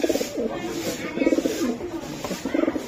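Racing pigeons coo steadily and close by, a continuous run of soft, rolling calls from a loft, with a voice faintly present.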